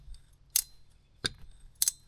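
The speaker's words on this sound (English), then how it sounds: "Let's see if I can get you guys up in here with a wrench, a ratcheting wrench." A ratcheting wrench clicking on a bolt of a Jeep JL build: three sharp, separate metallic clicks, close and crisp, spaced roughly half a second apart in a quiet garage.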